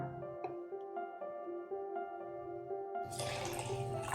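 Half a cup of water is poured into a container, a quiet ringing trickle whose tone shifts as it fills, then ends in a brief splashy gush, with no talk.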